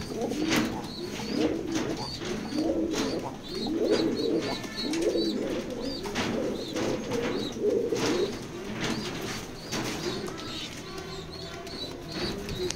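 Pigeons in a pair offered for sale coo in repeated low rounded phrases throughout, with occasional wing flaps and faint chirps in a busy, fairly close setting.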